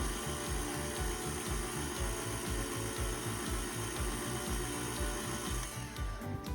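Zucchini brownie batter is mixed in a bowl, giving a quiet, steady stream of rhythmic scraping and churning strokes that continue without pause.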